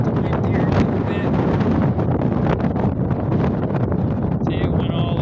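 Strong wind blows outdoors, roaring as continuous loud gusts that buffet the microphone throughout, with a voice faintly present beneath the rumble.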